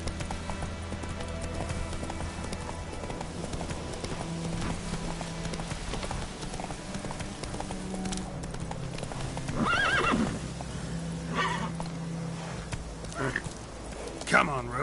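Roach, the horse in the video game Witcher 3, gallops with rapid rhythmic hoof clip-clops and neighs loudly several times near the end, with a rider's voice calling out over it.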